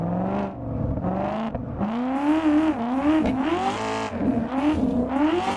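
An Australian Swarm drift car with dual exhaust in the racing game Assetto Corsa, engine revving hard and loud through repeated climbing pulls with brief drops between gear changes, exhaust note rasping throughout, no talk.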